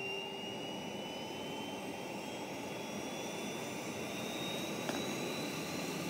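A helicopter's low, steady engine drone hums faintly in the distance, unbroken and even, with a faint whine above it.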